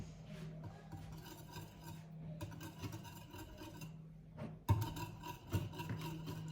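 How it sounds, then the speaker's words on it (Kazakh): Cake batter for a quick five-minute cake being stirred in a bowl, a steady soft rubbing and scraping that runs throughout at close range, with a few sharper knocks of the utensil against the bowl near the end. "Енді біз бұны араластырамыз."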